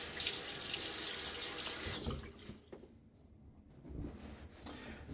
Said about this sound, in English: Throw a little water on my face.